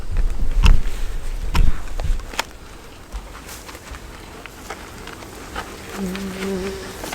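Honeybees hum around an open hive during a first beekeeping session, a steady insect drone with a few louder close buzzes early on and a sustained higher tone near the end.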